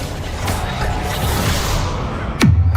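Magical spell effects crackle and rumble continuously in Hogwarts Legacy combat, with a sharp whooshing zap near the end that drops quickly in pitch, close and fairly loud.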